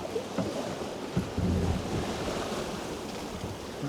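Sea waves slosh and surge against a Contessa 26 sailboat crossing the Irish Sea, a steady rushing wash with wind noise and a heavier splash of water near the middle.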